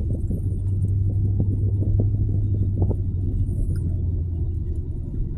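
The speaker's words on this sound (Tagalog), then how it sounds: "So there's some traffic" Steady low road rumble fills the scene on the way to a Dubai desert safari, a continuous droning hum of traffic with a faint throbbing pulse beneath it, no voices present.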